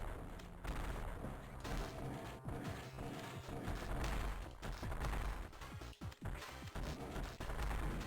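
Missiles firing in Metroid Fusion and Zero Mission, a rapid series of sharp explosive blasts and crashes, loud and irregular, with a few close bursts near the end.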